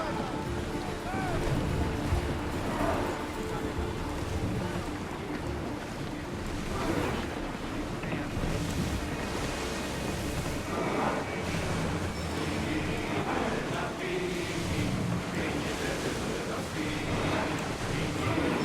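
A sailing ship out on the open sea in Assassin's Creed Odyssey, with waves washing and wind rushing steadily around the hull, a continuous close roar with surges.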